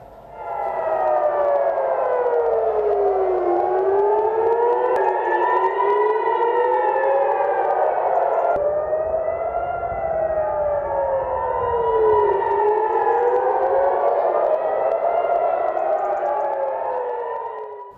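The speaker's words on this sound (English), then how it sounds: "Over in Israel, you can hear the air raid sirens ring." Air raid sirens wailing across an Israeli city during a rocket attack, several loud rising and falling tones overlapping in long sweeps, sustained and unbroken.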